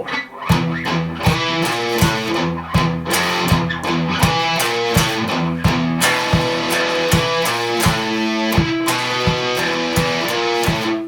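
Electric guitar plays an intro in chugging, palm-muted power chords with a steady driving rhythm and accented hits, loud and close, unaccompanied by voices.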